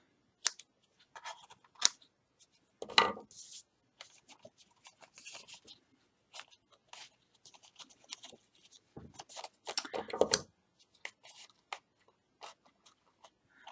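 Scissors trim loose threads on a crocheted baby doily, heard as a handful of soft, close snips and crisp rustles separated by quiet pauses. Faint handling noises fall between the cuts, and no one speaks.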